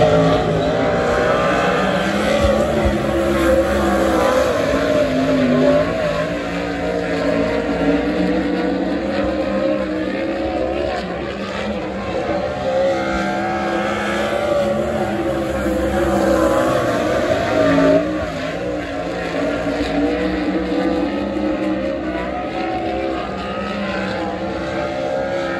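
360 sprint cars race on the dirt oval at Skagit Speedway during a night qualifying session, their engines droning loud and continuous as they rise and fall in pitch through the corners, with no gaps between passes.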